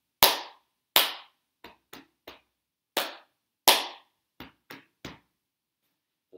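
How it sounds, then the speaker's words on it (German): Body percussion played in a steady pattern: two sharp hand claps, then three lighter chest slaps, repeated twice with short gaps, close and dry with no talking. "Klatsch, klatsch, Brust, Brust, Brust."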